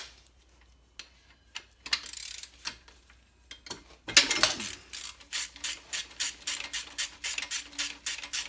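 A ratchet on a long 3/8 extension undoes a nut on a 3SGTE turbo during a turbo swap, with scattered scrapes at first, then a steady run of close, regular clicks.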